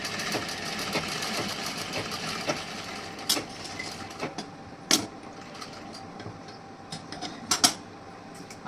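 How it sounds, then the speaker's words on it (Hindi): A sewing machine stitches along the edge of a princess-cut blouse, giving a steady mechanical whir broken by sharp clicks and taps, close by and with no talking. "इस तरीके से हमें किनारे से सिलाई लगानी है"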